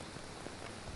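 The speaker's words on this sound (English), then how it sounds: "The sound of the rain changes in a different way now." Rain falls steadily on a forest cabin, a dense, even hiss with no breaks and no voices.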